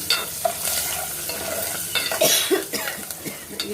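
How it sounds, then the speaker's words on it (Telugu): Green chillies sputter in hot oil in a pan for pepper rasam while a spoon stirs them, giving a close, busy sizzle with scraping strokes and a brief throaty cough-like sound, and no voice. "ఇది కొంచెం వేగాలండి."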